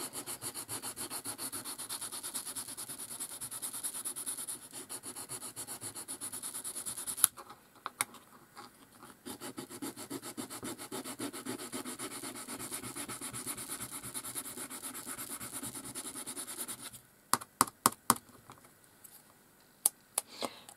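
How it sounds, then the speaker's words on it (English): Sandpaper scrubs a mixed media art piece made from recycled drink stirrers in close, steady rubbing strokes, pausing briefly, then ending in a few sharp scratchy taps. "Sandpaper gets clogged"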